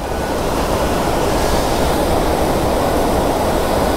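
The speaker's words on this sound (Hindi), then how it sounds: "ऊपर से जो ठंडा ठंडा पानी जो गिर रहा है ना भाई" Cold water falls from above at a waterfall in Kurseong, a loud, steady, unbroken rush of broadband roar with no pauses.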